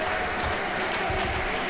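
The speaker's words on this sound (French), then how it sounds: "En applaudissant, voilà, bonne manière, on va applaudir nous aussi" A short burst of steady, dense applause comes from the crowd at a French national championship doubles tennis match, filling the moment without any clear talk.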